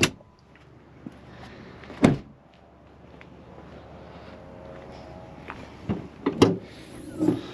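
The hood of an RST Duramax 3.0 pickup truck is popped open: a sharp latch clunk, quiet shuffling and footsteps, then several more thumps and clatters as the hood is raised, with no talking.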